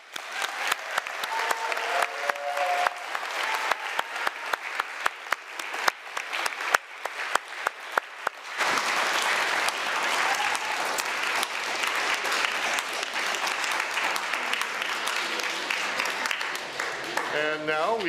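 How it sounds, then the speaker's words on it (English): A congregation at a church service claps, first in scattered individual claps, then swelling into sustained, even applause from the room, with a voice briefly speaking. "how about a big round of applause for everybody?"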